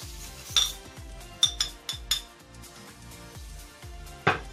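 A metal utensil clinks repeatedly against a pot while brine with salt, sugar, peppercorns and bay leaf is stirred, a series of sharp taps and scrapes close by, no speech.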